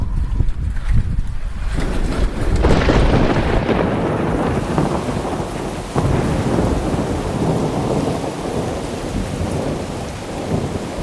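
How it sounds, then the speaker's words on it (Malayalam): A thunderstorm with heavy rain and strong wind outdoors: a loud thunder rumble builds early and rolls on while dense rain pours steadily under gusting wind noise, with no voices. "നല്ല മഴ പെയ്യാൻ പോകുന്നുണ്ട് കേട്ടോ. പുറത്ത് നല്ല കാറ്റുണ്ട്"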